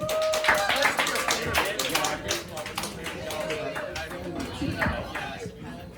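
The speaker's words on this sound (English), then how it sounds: "Put your hands together for Tony" An audience claps and cheers at a comedy open mic in a bar as a comedian is introduced, steady applause with whoops and chatter.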